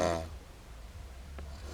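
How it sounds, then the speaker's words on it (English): A man snores in a single loud, rough breath at the start, followed by quiet low rumbling and a brief sharp catch like a hiccup near the end. "snoring and hiccuping at the same time."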